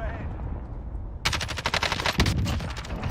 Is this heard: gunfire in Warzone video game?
yes